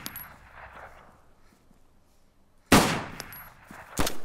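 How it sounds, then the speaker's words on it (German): Magnum revolver fired in the DayZ video game: two sharp, loud shots, the first a heavy blast with a lingering tail and the second about a second later, following a stretch of quiet ambient noise. "Wie geil das dieser Magnum-Sound, Alter."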